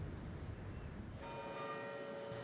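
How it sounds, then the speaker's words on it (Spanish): Church bells ring out over Puerta del Sol in Madrid, a sustained tolling tone rising out of faint, distant background noise partway through, with no talking. "Campanadas en la Puerta del Sol"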